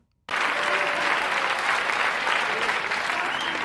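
A 1985 late-night television studio audience breaks into applause for comedian Roseanne Barr, starting abruptly after a brief silence and then holding as a dense, even roar of clapping.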